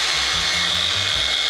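An angle grinder cutting an anchor rod whirs with a steady high-pitched whine, its motor pitch shifting slightly as it works, loud and close.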